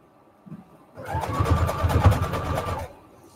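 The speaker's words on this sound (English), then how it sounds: "Your sewing machine works much better if you talk to it." A sewing machine stitching lace crazy paving ribbon runs in a steady, close mechanical whir for about two seconds, then stops.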